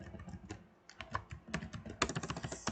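Rapid keystrokes on a computer keyboard spelling out the word Starbucks, close and clear, in quick uneven bursts with a short pause midway and no talking.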